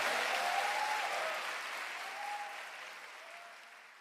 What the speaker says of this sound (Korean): 다시 한번 더 큰 박수 주님께 올려드리겠습니다